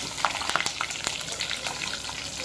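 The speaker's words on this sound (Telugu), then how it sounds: "అదే ఆయిల్లోని పచ్చిమిర్చి, ఆవాలు, జీలకర్ర, కొద్దిగా కరివేపాకు వేసుకొని వేగనివ్వండి" Green chillies, mustard seeds, cumin and curry leaves frying in hot oil for a Telugu brinjal onion-chilli curry: a faint, continuous sizzle broken by scattered crackles and pops, with no voices.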